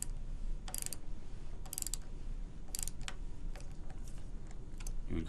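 A manual dental torque wrench clicks as it is reversed to back an implant out, giving a few faint, sparse ratcheting ticks over steady background hiss.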